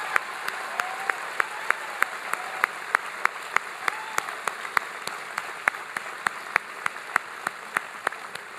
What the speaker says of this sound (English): can everybody please give Laura a huge round of applause for sharing her story?